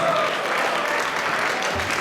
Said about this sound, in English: Guys, give a round of applause for Sharon.